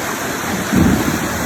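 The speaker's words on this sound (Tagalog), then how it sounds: "Ang lakas kasi ng agos ngayon." Strong river current rushing loudly during a fishing trip, a steady broadband roar of water that surges briefly midway.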